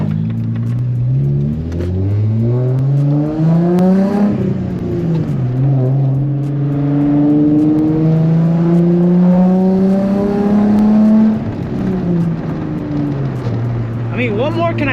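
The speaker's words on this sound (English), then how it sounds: "Oh, there's a Mustang coming in hot right behind us," A Ford Mustang comes up fast from behind, its engine climbing and falling through several loud revving sweeps close by.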